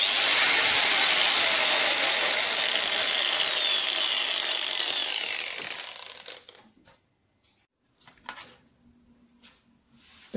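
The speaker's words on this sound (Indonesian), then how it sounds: "kemudian putar, hidupkan grinder." An angle grinder fitted with a sandpaper disc whines at high speed for about six seconds, loud and close, then spins down to silence, followed by a few faint handling clunks.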